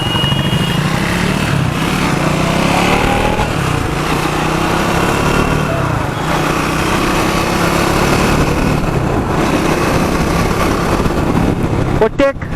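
Triumph Speed 400 motorcycle with a stalling issue, its engine running loud and close with a continuous buzzing drone, while someone talks over it.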